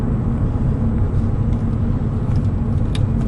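A Porsche 911 996.2 Tiptronic with a Dansk exhaust idles and runs with a loud, steady low rumble throughout, with no noticeable revving.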